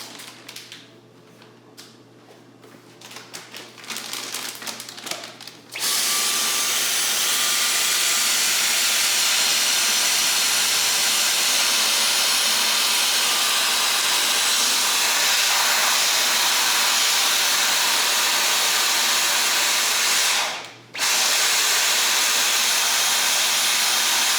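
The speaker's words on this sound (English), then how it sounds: "I'm gonna go ahead and pull out my vacuum cleaner, get the rest out." A steady, loud roaring hiss of a vacuum cleaner sucking air from a storage bag, running continuously, briefly dipping once before resuming, after a softer rattling start.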